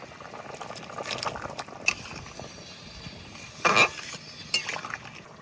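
Water simmering in a pot for a village-style fish curry of magur catfish with pointed gourd, with quiet steady bubbling, a few light metallic clinks of a utensil against the pot, and a brief louder splash or clatter near the end.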